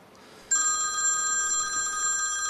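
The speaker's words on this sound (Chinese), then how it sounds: "不好意思，我接个电话。" A telephone suddenly starts ringing after a quiet moment, a bright electronic tone repeating steadily and fairly loud with no talk over it.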